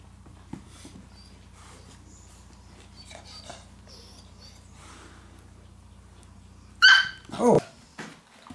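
Puppies let out two loud, close yelping barks in quick succession near the end, after a long stretch of low hum and faint rustling.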